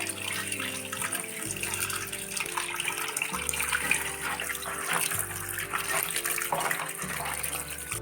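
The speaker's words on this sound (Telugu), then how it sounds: "అలోవెరాని బాగా కడుక్కోవాలండి" Fresh aloe vera leaves are washed under a running kitchen tap, with a steady hiss of flowing water and splashing throughout, while a low hum pulses in the background.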